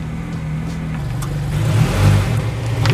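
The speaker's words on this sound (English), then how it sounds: "I never realized how loud this car is." A car fitted with an Injen intake runs loud and steady close by, its low engine rumble swelling slightly as revs rise, with no talk.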